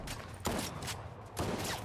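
Two loud bursts of rapid gunfire ring out in Fortnite over a dense, constant game backdrop.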